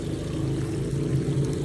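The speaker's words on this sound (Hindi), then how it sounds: "अब पानी भाग के जा रहा है।" Water flowing away through a channel dug in a vegetable field, a steady close rushing pour with a low rumbling undertone, continuous and fairly loud, without speech.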